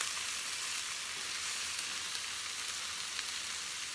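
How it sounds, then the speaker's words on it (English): Sausages fry steadily in a pan on an Aga range cooker, giving a dense, even sizzle that stays close and constant throughout, with no voices. "Make sure the sausages are touching the surface of the pan so that they brown as well."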